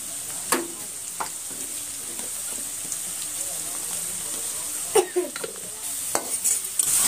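Hot oil crackles and sizzles steadily as spices are tempered, with a few sharp pops and clinks of a utensil against a pan near the end.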